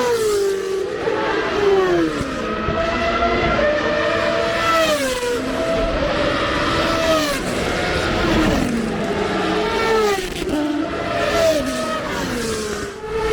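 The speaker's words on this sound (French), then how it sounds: "Ce que vous entendez, c'est bien des Formule 1." High-revving Formula 1 V10 racing engines scream past one after another at Hockenheim, pitches rising and falling in sweeping whines, loud and continuous.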